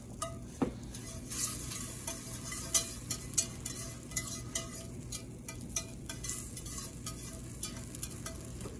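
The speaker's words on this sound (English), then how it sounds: "we have our pan heating and we're gonna add in our 3 tablespoons of light butter" Three tablespoons of light butter melt in a heating pan with a continuous soft sizzle, punctuated by irregular light clinks and scrapes of a utensil against the pan, fairly quiet and close.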